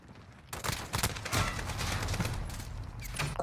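Sustained automatic fire from an RPK light machine gun in Modern Warfare, a dense, loud continuous burst of rapid shots that begins abruptly and runs steadily to the end.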